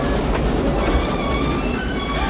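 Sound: train in a film scene, Back to the Future III

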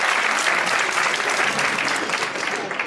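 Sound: audience applause for a volunteer at a magic show

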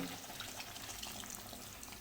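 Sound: hot water being poured into chicken masala

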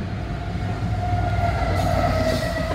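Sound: CSX freight train passing railroad crossing

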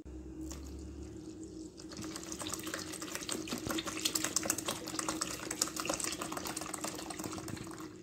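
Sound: tap water poured into a mixing bowl

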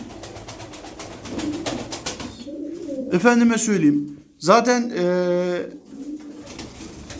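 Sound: pigeons cooing (Miski, Nuhudi breeds)

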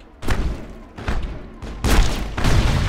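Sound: grenade explosion in the video game Mass Effect

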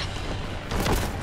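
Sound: grenade explosion in the video game Warhammer 40k Boltgun

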